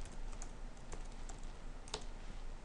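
Typing on a computer keyboard, a steady run of soft, quick key clicks with one sharper tap, quiet and close with no one speaking.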